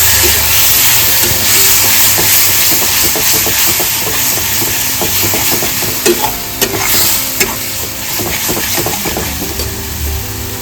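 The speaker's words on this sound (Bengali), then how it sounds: "এর মধ্যে আমি সামান্য একটু জল ব্যবহার করব যেহেতু মশলাটা পুরো শুকনো শুকনো হয়ে গেছে দিয়ে ভালো করে কষিয়ে নেবো মশলাটাকে" Spice masala for Bengali fish chops fries loudly in a pan after a little water is added to the dry mixture. A dense hiss and sizzle continues throughout, with stirring scrapes close by.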